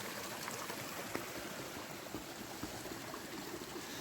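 A small river flows beneath a snowy footbridge, a faint, steady rush of water with soft trickling and gurgling, heard alone at a distance.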